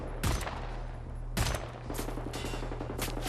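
Gunfire from the first-person shooter Wolfenstein: The New Order, with two distinct loud shots about a second apart over a steady background hum of game sound, followed by fainter rapid bursts.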